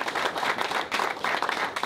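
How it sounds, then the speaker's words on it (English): Audience at an agricultural research center field day gives a short, dense round of applause, a steady wash of many hands clapping close by with no talk over it. "if you guys wouldn't mind giving Bret a round of applause"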